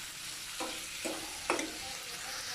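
Chicken Manchurian being stirred in a pan over a high flame, with three distinct scraping strokes against a steady background sizzle.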